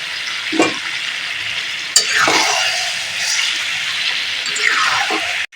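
Chicken fries with ground spices, ginger paste, green chili and turmeric in a pan, a loud continuous sizzle broken by a few scraping stirs and thumps, close up with no talking.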